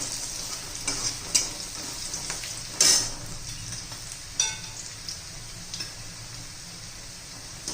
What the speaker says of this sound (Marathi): कांदा परतून घ्यायचा आपल्याला जास्त असा तांबूस वगैरे नाही करायचा ट्रान्सपरंट होईल इथपर्यंतच परतून घ्यायचं आहे आपल्याला